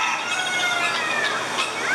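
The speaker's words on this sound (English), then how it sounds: "Lots of guineas, noise makers." Pearl and white African guinea fowl calling together at a fair, a dense chorus of overlapping harsh chattering cries with continuous background noise.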